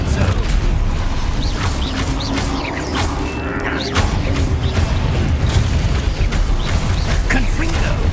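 Repeated Confringo blasting spell explosions in the Hogwarts Legacy video game thud and boom through a long, chaotic spell fight, mixed with crashes, whooshes and mechanical clatter at a constant loud level.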